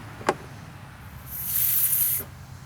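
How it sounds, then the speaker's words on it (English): A pop bottle fizzes under pressure as its cap is worked at, a steady hiss rising for about a second after a brief click, close and fairly quiet. "I can hear it wanting to open. You hear the fizz?"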